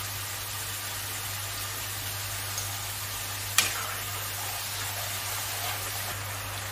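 Spice paste for a no-onion, no-garlic rohu fish curry sizzles steadily in a pan, an even hiss with a low hum beneath and one sharp click partway through.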